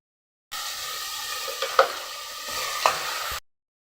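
Tomatoes sautéing in a pan for chicken gravy, a close, steady sizzle with a couple of sharp stirring clinks, no talk.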